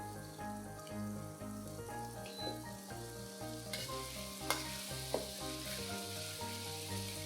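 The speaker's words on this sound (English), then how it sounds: "Fry all these ingredients till it changes into a darker shade of color and the oil splits" Rempah spice paste frying in oil in a pan, a steady close sizzle with occasional stirring clinks, over soft rhythmic background music.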